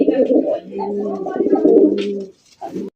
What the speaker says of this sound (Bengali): লাল টুকটুকা বোম্বাই কবুতর আপনারা দেখতেই পাচ্ছেন